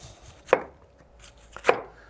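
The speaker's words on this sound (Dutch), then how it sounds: "Je kunt eigenlijk gewoon flinterdun stukjes snijden uit die kool." Knife slicing cabbage thinly on a cutting board, two distinct crisp chopping strokes about a second apart, close and clear with no talking.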